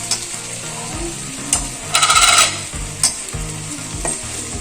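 Fried elephant foot yam pieces are stirred in a pan, the spatula scraping and clattering in repeated strokes over a constant loud sizzle, with a few sharper bursts of scraping.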